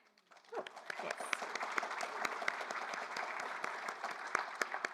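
Spontaneous audience applause at a book award ceremony breaks out after a short quiet moment and carries on as steady, moderate clapping from a seated crowd.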